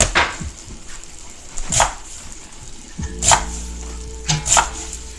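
A knife chops onions on a cutting board in a few sharp, separate knocks spaced apart, close and crisp, with low background murmur between the cuts.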